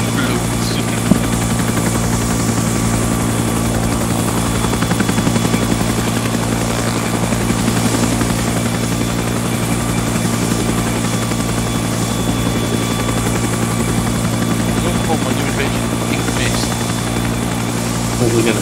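A medical evacuation helicopter in a video game flies close by, its loud rotor chop throbbing steadily for the whole stretch with a continuous engine whine.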